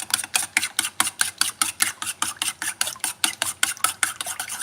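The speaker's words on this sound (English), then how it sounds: "This is me just beating my eggs." Eggs are beaten in a bowl with quick, regular whisking strokes, a close, crisp rhythmic clatter of about four beats per second heard alone, while Haitian macaroni is being prepared.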